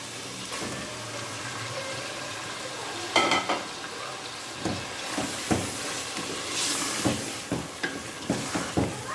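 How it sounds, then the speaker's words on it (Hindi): Chicken frying in a pan with cooked masala, a steady low sizzle with a run of spoon scrapes and stirring knocks that grow more frequent toward the end, no voices. "अब हम इसमें चिकन डालकर चिकन को अच्छी तरह हम इसमें भूनेंगे"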